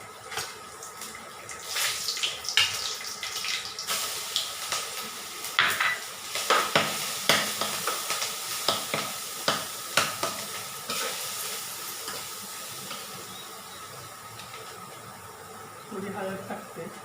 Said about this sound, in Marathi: तेल टाकलं आता गरम झाले. आता लसूण, कढीपत्ता, ही मिरची टाकते त्याच्यात.